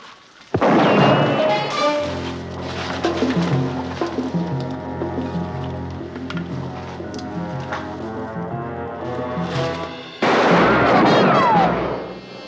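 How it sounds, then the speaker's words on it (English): Gunfire exchanged in a scene from the 1960s TV series Voyage to the Bottom of the Sea, with loud bursts at the start and end over a steady, droning music score. "They trade shots for a while"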